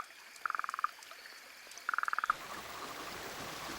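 A frog in the Australian outback croaks in two quick rattling bursts of evenly spaced pulses, close and clear, followed by a softer wash of ambient noise.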